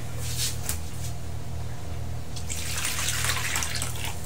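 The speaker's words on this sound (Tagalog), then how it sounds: "Then dyan natin ilalagay yung tubig." Water is poured into a well of flour for hand-kneaded pandesal dough, a soft continuous trickle and splash that grows brighter toward the end, with a low steady hum underneath.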